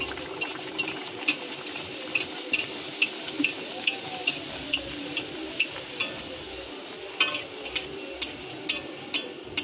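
Luchi, a puffed Bengali flatbread, frying in hot oil in a home kitchen: a steady soft sizzle runs throughout, punctuated by regular light clicks and taps, close and moderately quiet, with no talk.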